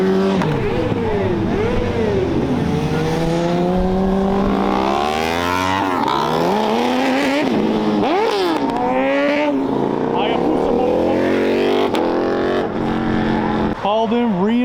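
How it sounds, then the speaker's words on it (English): Motorcycles pulling away from a car meet, engines revving and rising in pitch through repeated gear changes, loud and close, with car engines, crowd noise and people talking throughout. "here come the bikes"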